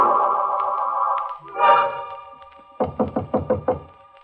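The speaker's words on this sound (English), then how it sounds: "He knocks on my door." Knocking on a door for a tense radio horror drama: a run of six sharp, evenly spaced knocks, close and loud, coming after a stretch of sustained, eerie processed tones and a brief swelling effect.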